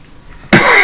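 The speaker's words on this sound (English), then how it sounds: "So if I cough a little bit, I apologize for that." A man, still recovering from an illness, gives a single sudden cough or throat clear, close and loud, after a short stretch of quiet room noise.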